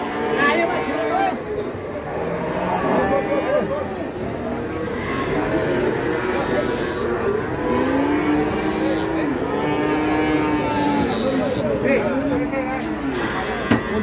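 Cattle being unloaded from a truck moo repeatedly in long, drawn-out calls, loud and close, under a steady background of people calling out and chatting nearby.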